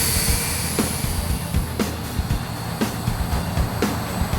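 A Blade MQX quadcopter with night flying lights hovers close by, its motors holding a steady high whine over a low hum, with faint periodic ticks every second or so.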